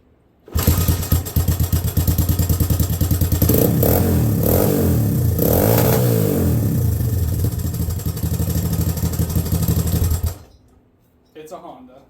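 A Honda ATC 200X three-wheeler engine, run on half choke and leaking badly, roars loud and close for about ten seconds with uneven revving and mechanical clatter, then cuts off; voices talk over it.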